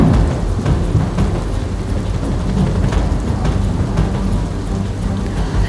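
Heavy downpour with thunder during monsoon flooding in Gujarat, a loud, dense roar of rain hitting surfaces with deep rumbling underneath, continuous and close throughout.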